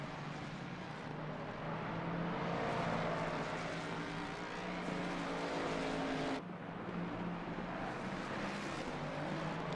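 Race cars, including GT3 machines, roaring around the Hungaroring in a wet-weather sim racing game, a steady dense engine drone with a sudden drop in the mix partway through, no voices.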